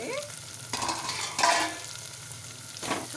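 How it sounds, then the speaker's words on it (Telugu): Onions with coarse salt frying in oil in a pan for a quick home-style curry, a steady soft sizzle broken by a few louder bursts of stirring, close and without talk. "ఆనియన్స్ వేగిపోతున్నాయి, మగ్గిపోతున్నాయి. ఆయిల్లో బాగా ఫ్రై అవ్వాలి."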